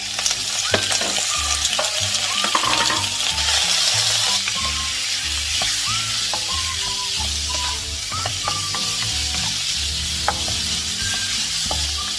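Pork belly frying in a pan with golden fried garlic, a loud, steady close-up sizzle and crackle with repeated stirring scrapes and clinks throughout.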